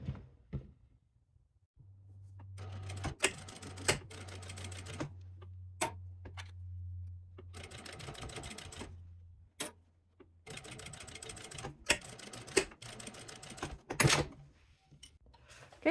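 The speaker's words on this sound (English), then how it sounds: "we will go back to the sewing machine and we will top stitch here" Sewing machine top stitching a tote bag runs in several bursts of rapid mechanical ticking with pauses between them, under a steady low hum, at close range.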